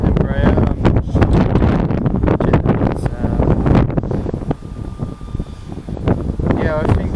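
Strong gusty wind buffeting the microphone beside runway 20 at Southampton airport, loud rough bursts rising and falling the whole time, with a faint distant aircraft tone in the background.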